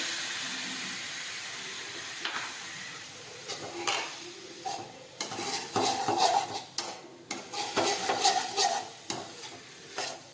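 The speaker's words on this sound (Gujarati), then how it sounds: "હવે આપણે ખાંડનું પાણી ઉમેરી દઈશું" Sugar water goes into poha cooking in a metal pan, followed by close, rhythmic scraping and clinking of a spoon stirring against the pan, growing busier toward the end.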